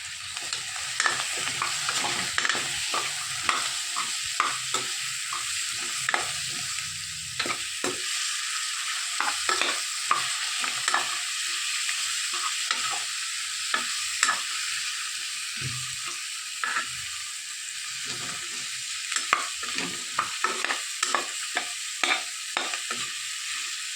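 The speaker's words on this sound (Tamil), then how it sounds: "நல்லா வதங்கட்டும்." Beetroot and other vegetables sauté in a pan for sambar rice, giving a steady sizzle broken by frequent scraping and clacking stirs throughout.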